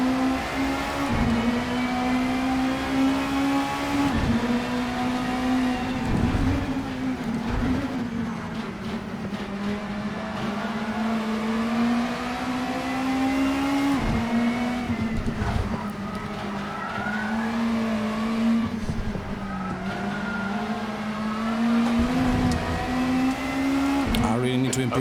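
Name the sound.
race cars racing in a video game (Assetto Corsa)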